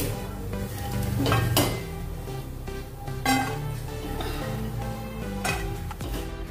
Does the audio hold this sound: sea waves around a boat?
no